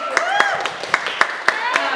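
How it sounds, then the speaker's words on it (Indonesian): An audience at a Q&A event clapping hands, sharp distinct claps at a steady rhythm, loud and close over a sustained tonal background. "Tepuk tangan dulu dong"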